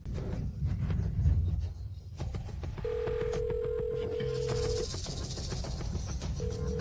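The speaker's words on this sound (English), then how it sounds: "President Fu, pick up the phone." A telephone rings in a steady electronic tone over a loud, busy low background rumble, with a pause and then the ring starting again near the end.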